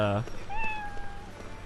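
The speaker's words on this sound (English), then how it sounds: "Let's zoom in on the cat." A cat in the video game Lost Odyssey lets out a single short, clear meow, heard over faint background game ambience just after a brief bit of speech.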